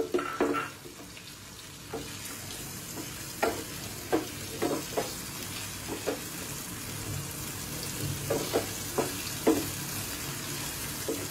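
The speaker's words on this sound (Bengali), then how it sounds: "এবার আমি আলুটাকেও দিয়ে দিচ্ছি" Potatoes frying in oil sizzle steadily in a pan, broken by repeated clinks and scrapes of a spatula stirring at an irregular pace.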